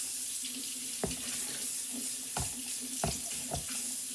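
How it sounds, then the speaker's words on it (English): Water runs steadily from a tap into a bowl of cornstarch while making oobleck, a continuous hissing stream with a few soft knocks and clinks, close by and without talk. "next, I think we're supposed to add the water."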